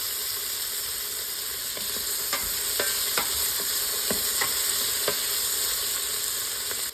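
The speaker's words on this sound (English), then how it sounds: "We add the peppers, good in jardiniere, and start saute everything together." Peppers sautéing in a pan for white bean soup, a loud steady sizzle and hiss with scattered scraping stirs and light clicks of a utensil, close and continuous.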